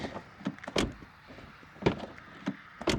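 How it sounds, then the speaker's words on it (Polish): Door of a 2000 Peugeot 406 Coupé 3.0 V6 opened and shut several times, each with a sharp close thud or latch click amid quieter handle and hinge sounds, close and clear with no talk. "Dźwięk otwierania i zamykania drzwi."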